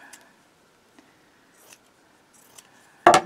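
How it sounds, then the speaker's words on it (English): Scissors cut fabric scraps for a rag rug: a few faint snips, then one sharp, loud close cut at the end, heard alone in a quiet room. "I will cut off this little white spot."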